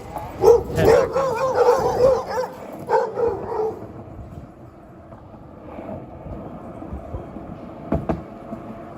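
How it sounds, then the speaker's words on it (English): Dogs on a New York City street near the Columbia University campus bark at a passing skateboarder, several loud, close barks and yips bunched in the first few seconds before fading into quieter street background. "the dogs really don't like the skateboard very much"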